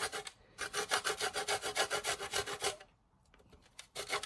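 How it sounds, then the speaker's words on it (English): A lemon rubbed against a hand grater for zest, giving a steady run of close, rhythmic scraping strokes that pause briefly near the end before resuming. "get a bit of lemon zest on the top there"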